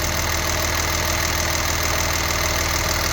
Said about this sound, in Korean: 순수한 6기통 엔진음이 들리고 있습니다.